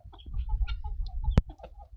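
Chickens cluck in short, close bursts, with a sharp knock partway through, and no voices present.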